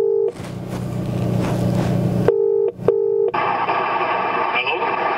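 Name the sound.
telephone dialing to place a phone call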